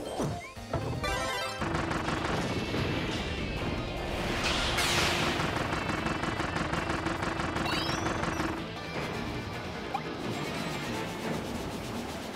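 Kirby's gun power fires in Kirby and the Forgotten Land, with repeated shots and crashes layered over busy game music and effects throughout.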